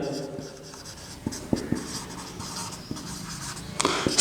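Chalk or marker scratching across a board during a trigonometry lesson on angle measure, with faint tapping strokes at an irregular pace and a sharper scrape near the end, close and fairly quiet in a classroom.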